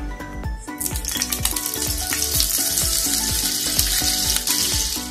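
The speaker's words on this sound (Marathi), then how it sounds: "भरपूर सारं बटर टाकूया, मस्त 1 चम्मच." Oil and a generous spoon of butter sizzling in a hot pan for Mumbai-style pav bhaji, a bright frying hiss that swells after a soft start, with a series of light clinks and taps close by.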